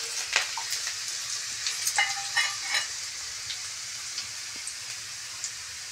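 Chillies frying in a pan of hot oil with garlic, a steady close sizzle of fine crackles and pops that bursts louder for the first few seconds, then settles into a softer continuous hiss.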